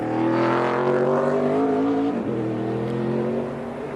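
ARCA Menards stock cars roar around the track on the final lap, a loud sustained engine drone that shifts pitch as a car passes, then eases slightly toward the end.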